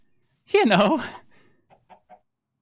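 Chickens clucking in the Minecraft video game, a single short burst of harmonic clucks up front followed by three faint, quick little clucks.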